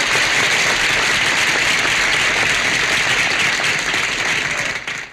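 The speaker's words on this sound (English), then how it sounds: "Let's give them a hand." A studio audience applauds the guests of a television show, loud sustained clapping that stays thick and even for several seconds before fading at the close.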